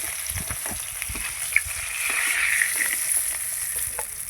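Catla fish pieces frying in hot oil, a continuous close crackling sizzle that swells in the middle, with a few faint taps of utensils and no voices.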